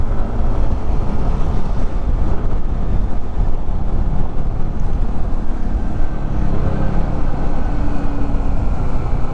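Motorcycle ride on a mild, not-too-hot day on the way to Barangay Ibabang Palale, with a steady low engine drone and heavy wind buffeting the microphone throughout, no talking.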